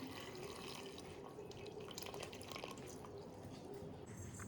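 Water pours in a soft, steady stream into a container of tamarind set to soak, quiet and close, with no talking.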